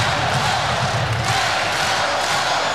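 A packed crowd roars steadily at a men's college volleyball match, Hawaii against UCLA, a dense continuous wall of cheering and shouting that holds at full loudness throughout.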